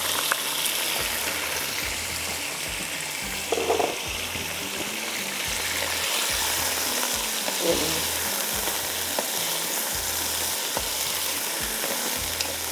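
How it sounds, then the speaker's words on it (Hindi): Ginger and garlic fry in a pan with a steady, loud sizzle and some stirring scrapes throughout, with no one speaking. "थोड़ा सा इसको अच्छी तरह से फ्राई करना है।"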